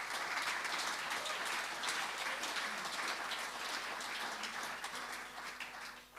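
A warm, continuous round of applause from the audience at the Port Fairy Folk Festival 2024, steady and full for several seconds before tapering slightly at the end.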